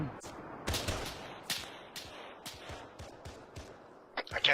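Gunfire in the Halo video game: scattered sharp shots and short bursts crack at uneven intervals over a low background, with a flurry of rapid shots at the end and muffled voices faintly underneath.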